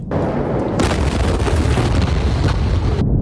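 The massive Beirut explosion erupts into a loud, sustained roar of rumbling blast noise that holds for a couple of seconds before cutting off.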